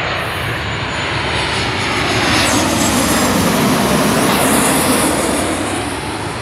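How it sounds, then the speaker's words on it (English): An airplane flies at LAX airport with a loud, broad engine roar that swells to a peak around the middle as it passes close by, then eases slightly without fading out. "Another plane."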